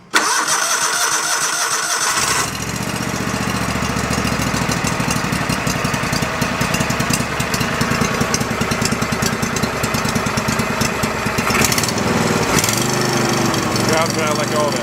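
A forgotten Go-For digger's small engine, bought from an estate sale, catches and runs loud and steady close by, its throttle hanging high and the revs surging and dipping unevenly as the governor fails to settle, with a brief drop near the end.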